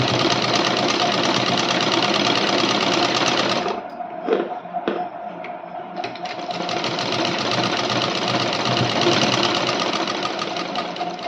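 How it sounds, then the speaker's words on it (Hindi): A sewing machine stitches along a blouse seam with a loud, steady mechanical whir, pausing briefly for a few seconds midway before running again continuously. "ये देखिए मैं किस तरीके से सिलाई लगा रही हूँ"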